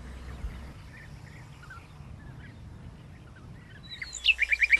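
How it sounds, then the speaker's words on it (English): Mixed birdsong from nightingales, golden orioles and great reed warblers at a lakeside wetland at Lake Kerkini, northern Greece: faint scattered chirps over low background hum, rising to a louder, close run of rapid repeated notes at the end. "The air is full of these songs of nightingales, golden orioles and great reed warblers."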